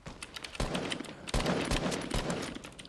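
Fortnite gunfire in rapid bursts, loud close-up automatic shots in two main volleys with scattered single cracks, dense and continuous throughout.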